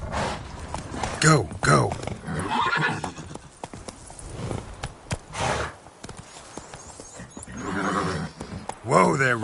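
Geralt's horse Roach in The Witcher 3 on PS5, with clopping hooves and several whinnies heard up close, mixed in among a man's spoken lines.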